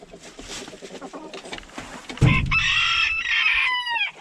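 Chickens inside a coop cluck in short, busy bursts, then a rooster breaks in with one loud, drawn-out crow close to the microphone that lasts to the end.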